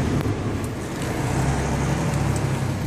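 A 1997 Subaru Impreza WRX STi Version-4 with a turbocharged engine and 4WD idles with a steady, deep exhaust rumble that holds a constant low drone from start to end, with no voices.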